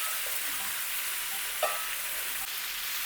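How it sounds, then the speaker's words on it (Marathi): Paneer pieces sautéing in oil in a pan, a continuous close hissing sizzle with one soft utensil knock partway through and no voices. "तेलावर परतून घ्यायचं व्यवस्थित सगळं."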